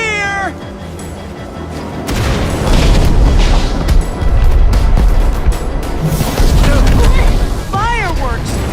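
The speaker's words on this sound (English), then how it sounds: "Fireworks!" Loud, continuous booming fireworks in Minecraft: Story Mode build into a dense rumbling roar with crackle, joined by a monstrous screeching creature cry at the start and near the end.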